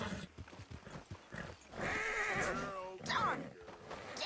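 A horse in the video game Red Dead Redemption 2 lets out a loud, drawn-out neigh and then a second shorter whinny, with hoof clip-clops and someone talking around it.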